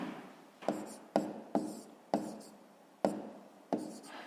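Pen writing on paper during a fifth-grade maths exercise, a series of about seven short sharp strokes with faint scratching between them, close and quiet.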